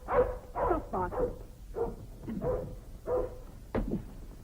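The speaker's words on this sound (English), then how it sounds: "Stop barking." Hagen, a dog at the foot of the stairs, gives a run of about seven barks in an uneven rhythm, close and fairly loud, with no talk around them.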